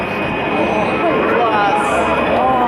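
Aerobatic planes of the Baltic Bees jet team fly over at an air show in Daugavpils, their loud, continuous jet roar filling the scene as a crowd and announcer talk beneath it.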